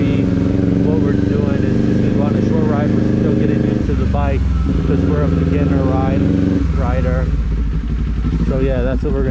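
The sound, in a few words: motorcycle riding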